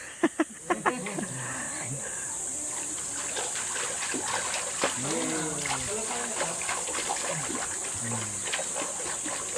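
Water splashes and trickles steadily as it is poured at a swimming pool, with scattered voices and faint animal sounds mixed in the background.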